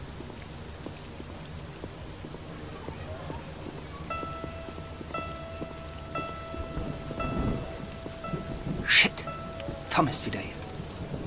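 Steady rain and rumbling thunder in the Black Mirror II adventure game, with a loud thunderclap building near the end over constant rainfall, while someone briefly speaks.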